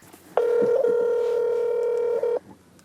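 A telephone tone sounds during a check-in call between fishing teams, one steady beep lasting about two seconds, clear and close, with faint background noise and no talk.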